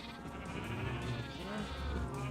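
Several cows mooing in the Minecraft survival video game, loud, close and overlapping, a continuous run of wavering, bleat-like calls with no break.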